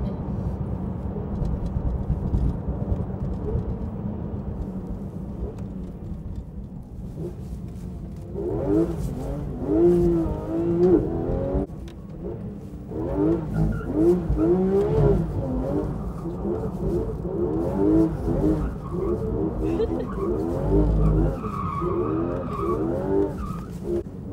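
A powerful sports car engine roars and revs while driving fast, with gear changes, rising pitch and occasional tire noise, close and loud throughout.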